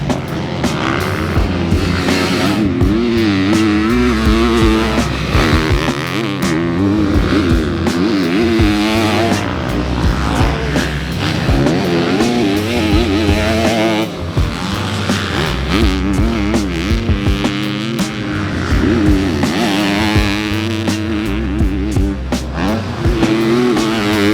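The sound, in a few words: KTM 250SXF motocross bike being ridden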